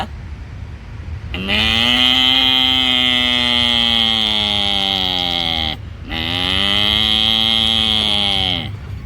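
A voice imitates a calf mooing in two long, loud, drawn-out calls, the second shorter, with a brief pause between them.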